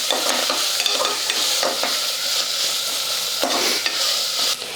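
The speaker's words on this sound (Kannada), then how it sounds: "ಈ ಶುಂಠಿ ಬೆಳ್ಳುಳ್ಳಿ ಪೇಸ್ಟಿಂದ ಹಸಿ ವಾಸನೆ ಹೋಗುವವರೆಗೆ ಫ್ರೈ ಮಾಡಬೇಕಾಗ್ತದೆ" Ginger garlic paste sizzles steadily in a hot pan for rice bath, with a spoon stirring and scraping through it in repeated strokes, loud, close and continuous with no talk.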